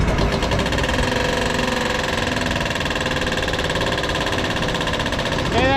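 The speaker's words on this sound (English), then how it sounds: "that sound is that thing in the chopper hitting" A combine's steady mechanical engine drone with rapid repetitive knocking and rattling from debris hitting inside the chopper throughout, loud and close, with no pause.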